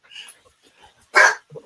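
A dog barks indoors, with a few soft whimpery yips and then one loud, close bark. Someone talks briefly around it.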